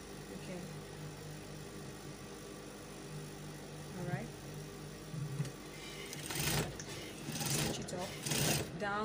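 Sewing machine stitching fabric for a cowl kaftan dress, running in short bursts of steady mechanical whirring that grow louder toward the end, with a steady hum and some handling noise beneath.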